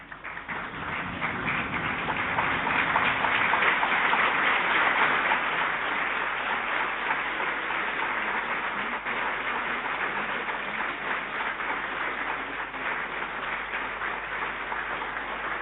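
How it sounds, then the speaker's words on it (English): An indoor audience applauding as a guest speaker enters a talk, a dense, steady wash of many hands clapping that swells early and carries on at an even level, close and loud. "Clap and stand up when she comes in."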